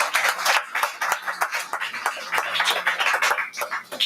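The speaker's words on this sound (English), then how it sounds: "yes, you can give him a round of applause." An audience gives lively, dense applause for a tabla teacher at a graduation ceremony, with close, sustained clapping that carries on steadily for about four seconds.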